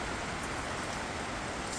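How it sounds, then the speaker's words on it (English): Steady rain falls on a campsite during a storm, giving a constant, even hiss of drops with no voices. "So it's storming at the moment"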